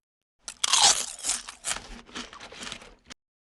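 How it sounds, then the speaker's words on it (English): Crisp crunching of a potato chip being bitten and chewed, a loud first bite followed by several quieter crunches over about two and a half seconds, close and alone. "I try one chip."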